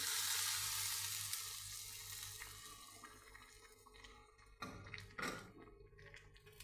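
Soft, fading sizzle in a pot of Karkidaka kootu after fried tempering is added, followed by a couple of brief louder clatters and splashes near the end.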